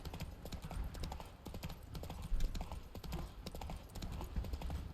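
Horse hooves clip-clop steadily and up close as a mare trots in The Witcher 3: Wild Hunt on PC, with even, continuous rhythm and a few louder footfalls.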